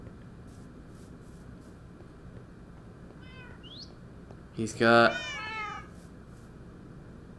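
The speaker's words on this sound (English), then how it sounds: "He just has a fuckload of cats in here." Tamed cats crowded into a house in Minecraft Java Edition give a short, thin meow, then a louder, drawn-out burst of meowing close by, with someone speaking briefly nearby.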